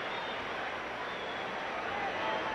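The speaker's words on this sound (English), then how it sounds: "Just listen to the noise of this crowd." A packed boxing arena crowd at the Muhammad Ali versus Joe Frazier fight roars with a dense, steady wash of noise, and a voice is faintly audible within it.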